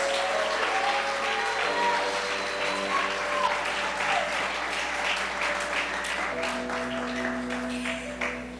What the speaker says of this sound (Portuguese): Aleluias, aplauda o Senhor.